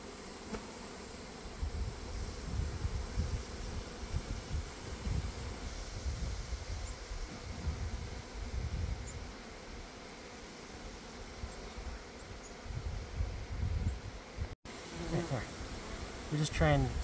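Honey bees hum around an open beehive, a soft continuous buzz with a few brief bursts of handling noise near the end.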